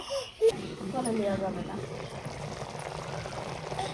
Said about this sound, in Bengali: জল দেওয়ার পর এরকম একবার ফুটে উঠেছে।